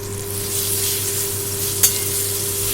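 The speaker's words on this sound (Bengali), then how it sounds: "ভালো করে আমি এটা মিশিয়ে নেব।" Mustard paste and tomato are fried in a pan, giving a steady close hiss of sizzling with one short scrape of stirring partway through and no speech.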